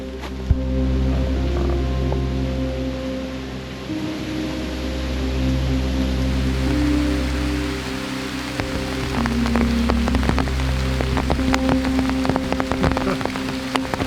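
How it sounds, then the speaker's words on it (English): Steady rain falls in the Amazon jungle, a dense continuous patter close by with growing intensity and sharp drops striking nearby surfaces, alongside low rumbling wind. "I think I hear rain over there. Oh, it just started."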